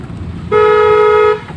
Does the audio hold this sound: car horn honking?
yes